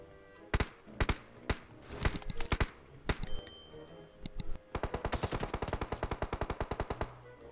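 Rapid automatic gunfire in a video game battle, several short bursts followed by a long sustained rattling volley, loud and close with sharp sparse shots in between.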